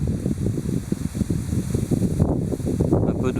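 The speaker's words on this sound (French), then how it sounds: "Un peu de vent, mais bon, ça devrait peut-être aller quand même." Wind gusts and rumbles steadily outdoors around a modified Esbit camping stove burning Fire Dragon gel, a broadband blustery roar close to the microphone, occasional voice-like murmurs beneath it.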